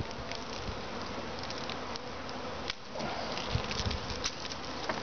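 A honey bee swarm being captured gives a dense, continuous buzzing hum close by, steady and unbroken apart from a brief dip and some light rustling, with no talking.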